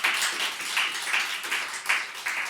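A church congregation clapping in a loose rhythmic pattern of repeated bursts, moderately distant and soft in a reverberant hall, with no one speaking over it.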